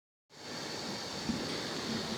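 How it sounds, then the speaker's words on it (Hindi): Water pours into a pot of fried chicken for pulao, starting abruptly and continuing as a steady, close rushing splash without pause. "अब हम इसमें पानी शामिल कर देते हैं।"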